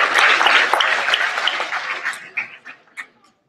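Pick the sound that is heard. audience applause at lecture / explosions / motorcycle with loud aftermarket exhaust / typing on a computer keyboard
audience applause at lecture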